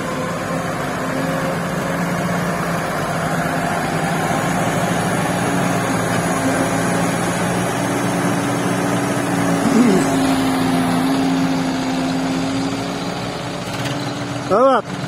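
A tractor engine runs steadily as it reverses, with a continuous low engine drone and a slight rise in pitch near the end, while people talk over it.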